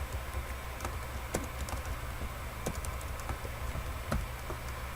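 Steady, brisk typing on a computer keyboard while entering citations and references in Microsoft Word, with close, irregular key clicks over a constant background hum and no voices.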